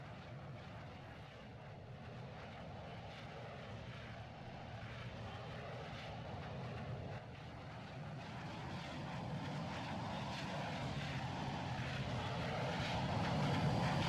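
Aircraft engine drones steadily through a landing approach in the VTOL VR flight game, a loud, continuous roar that grows slightly stronger toward the end, with no talking.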